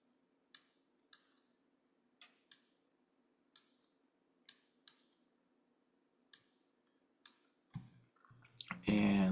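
Computer mouse clicks come one at a time at an uneven pace, crisp and close over a faint hum, followed at the end by a louder burst of noise.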